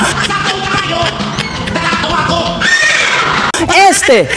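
Loud horse neighing sound effect mixed over busy festive music and voices, with a couple of sharp whinnies near the end.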